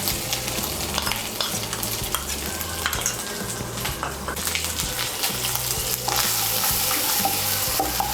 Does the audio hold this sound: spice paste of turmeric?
yes